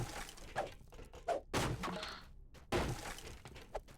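Wooden boxes are smashed apart in a video game: a series of sharp crashing and shattering hits with thuds between them, irregularly spaced and heard alone.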